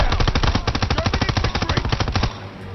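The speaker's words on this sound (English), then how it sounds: "I need cover fire on the left." Rapid automatic gunfire from Call of Duty WW2 on PlayStation 4, a loud sustained machine-gun burst of fast evenly spaced shots for over two seconds before it cuts off into quieter background noise.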